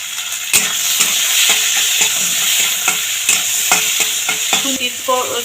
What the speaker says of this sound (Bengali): এই তেলের মধ্যে উচ্ছেগুলো ভালো করে ভেজে নেব।